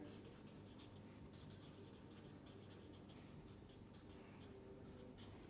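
Faint scratching of chalk or pen writing during a mathematics lecture, soft irregular strokes over a steady low room hum.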